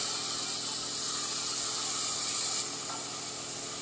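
Finely chopped tomato hits a pan of fried onion for upma, giving a loud steady hiss of steam and sizzle that drops slightly in level partway through, with no talking.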